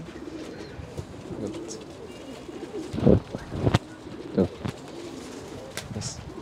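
Pigeons coo softly nearby while being handled, with scattered low coos and a few louder bursts in the middle, over faint background noise and a brief spoken word.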